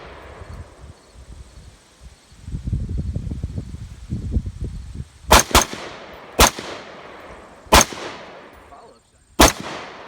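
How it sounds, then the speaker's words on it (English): An AR-15 rifle fires five sharp, loud single shots spaced a second or two apart outdoors, each followed by a brief echo, after some quiet rustling. "Follow-up shot."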